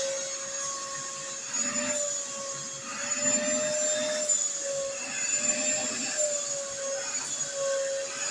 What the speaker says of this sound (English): So Kira's going to kick on the vacuum, and Ida's going to test it out.